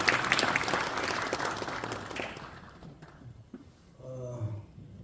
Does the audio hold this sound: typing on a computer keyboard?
no